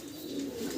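Magpie pouter pigeon giving a short, soft coo, close by and alone with no voices.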